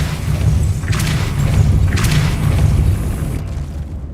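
Depulso force spell blast in the Hogwarts Legacy video game, a heavy booming thump with sustained low rumble and a couple of sharp bright bursts, loud and close throughout.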